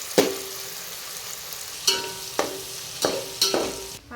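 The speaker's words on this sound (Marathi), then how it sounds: "त्यात तेलात चांगला परतून घेऊया मऊ होईपर्यंत" Tomatoes sautéing in oil for chicken biryani: a soft sizzle broken by about five sharp scraping stirs of a spoon against the pan, spaced irregularly.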